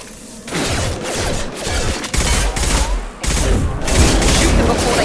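Gunfire in the Mass Effect video game: dense, loud bursts of rapid automatic weapon fire with booming impacts, coming in several waves separated by brief pauses, mixed with game sound effects.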